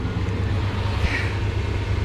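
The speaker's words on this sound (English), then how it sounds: "check and park, hot engine, idling vehicle" Hot Chevrolet Blazer engine idling in park, a steady low rumble close by, continuous and even with no speech.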